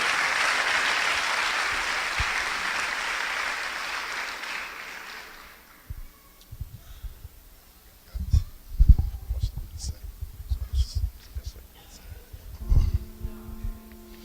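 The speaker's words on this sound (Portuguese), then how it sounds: "vamos agradecer a Deus com um aplauso pela vinda do pastor Jonatas" Church congregation at a celebration applauding warmly to welcome a pastor, a dense burst of clapping that fades out over several seconds, then quieter room noise, low thumps and a voice beginning to speak.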